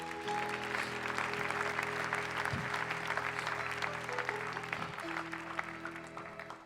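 A church congregation applauds the Lord in worship, a sustained crowd clapping over a steady backdrop of sustained organ or keyboard tones, continuing evenly throughout with no pause.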